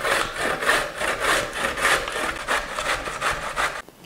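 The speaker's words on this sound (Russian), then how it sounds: "Берем нужную миску, терку и начинаем натирать." A very young fresh zucchini being grated into a bowl, giving a steady rhythmic rasping of repeated strokes, close and fairly loud, with no talking, stopping abruptly at the end.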